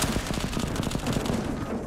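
Rapid submachine gun fire in a shooter video game, a dense, continuous burst of sharp shots, loud and close, with no talk.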